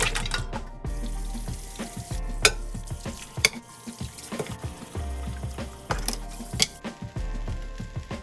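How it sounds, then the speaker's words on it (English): Oxtail meat is washed under a running kitchen tap: a continuous water stream with scattered clatter, splashing and handling knocks, moderately close and without talk. "The meat has been fully washed."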